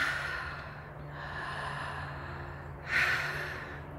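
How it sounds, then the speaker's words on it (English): Deep connected breathing through the mouth, a slow breath with a strong rush of air near the start and another near the end, close and intimate, with no talking. "this deep connected breath through the mouth"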